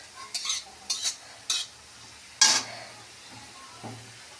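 Chillies and onions for a jackfruit seed mash are stirred in a frying pan, with several distinct scraping strokes of a utensil against the pan over a faint background sizzle.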